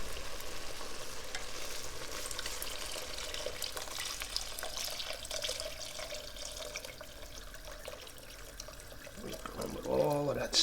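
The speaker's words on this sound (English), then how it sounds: "I'm just going to strain it right in." Lobster stock pours through a strainer into a hot pan for a fauxqueca fish stew, a steady splashing, sizzling rush that runs throughout, with a bit of clatter near the end.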